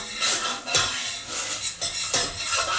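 Spoon stirring onion and garlic in a cooking pot for a spicy Mexican bean soup, giving repeated scraping, clinking strokes in a steady rhythm, close and fairly loud with no voices.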